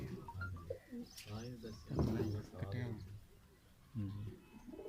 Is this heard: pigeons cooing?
yes